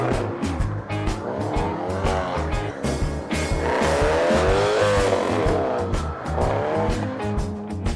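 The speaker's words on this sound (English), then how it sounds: "That's called one wheel peel." A car spins a single wheel without a limited-slip differential at a drifting and autocross event, tires squealing loudly and continuously as the engine revs rise and fall in repeated surges, close and dominant.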